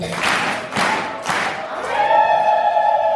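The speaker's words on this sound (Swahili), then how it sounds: "Makofi 1, 2, 3." A church congregation claps together on a leader's count, three bursts of applause in steady rhythm, followed by sustained cheering and singing voices from the crowd.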